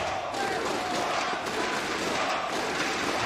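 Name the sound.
esports crowd chanting for Virtus Pro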